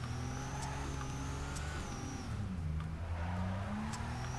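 A car engine in the drift game Torque Drift, steady and loud, with rising and falling revs and a tonal whine as the throttle changes, heard alone.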